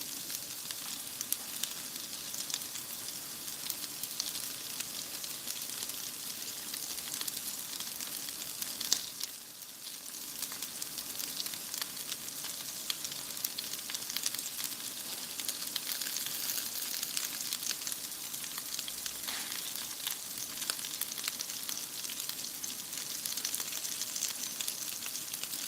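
Shortening or other fat sizzling in a skillet, a steady close crackling hiss that continues throughout with only a brief dip midway.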